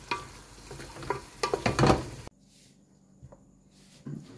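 Uncut chicken pieces go into a hot pan for a chicken and bottle gourd curry, with bursts of sizzling, clattering and stirring for about two seconds, then a quieter stretch of faint sizzle and occasional knocks.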